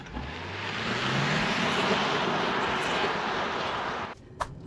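A 2024 Genesis GV70 SUV pulls hard off the line in Sport Plus mode, its turbocharged engine rising in pitch through a rush of wind and road roar before cutting off near the end.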